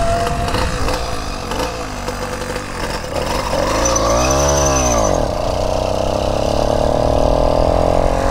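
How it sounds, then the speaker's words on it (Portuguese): A moped engine idles with the throttle held open, a loud, close, steady buzzing drone that swells briefly in pitch, then settles into a constant raised hum. "Aí você aperta aqui, ela fica assim, ó. Aí fica toda acelerada, mano."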